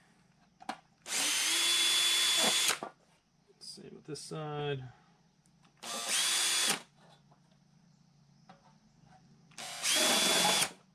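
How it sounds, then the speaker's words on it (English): A power drill whirs in three bursts of a second or two each, drilling holes, separated by pauses with brief speech and some clatter between them. "I'm just going to drill some holes, just going to mark them."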